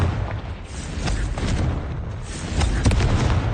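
Confringo fire spell blasts in Hogwarts Legacy, inside a cave: a dense rumbling barrage of booming explosions, loud and continuous with a sharper burst near the end.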